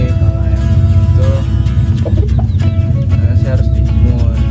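Backyard hobby chickens cluck and murmur in a flock, loud and close, with repeated short calls over a constant low background hum.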